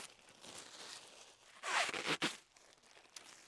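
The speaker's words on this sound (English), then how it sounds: "So we're gonna get the plastic off." Plastic covering is pulled off a garden bed in November: a quiet rustle, then a loud close crinkling and tearing burst lasting under a second, followed by a softer crackle and faint rustling.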